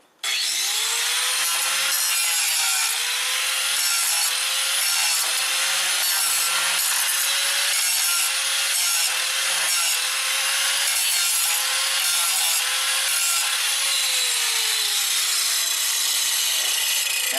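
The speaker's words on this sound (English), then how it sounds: "I kept my old grinding wheel I had from doing that firewall job" A small grinding wheel cuts bare metal in a car engine bay in one long, loud, continuous grind, its pitch wavering slightly as pressure changes.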